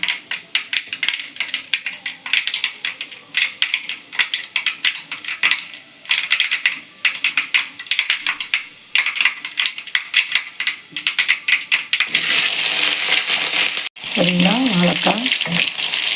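Dense, rapid crackling and popping of mustard seeds spluttering in hot oil, loud and continuous, with a brief harsher sizzle burst near the end.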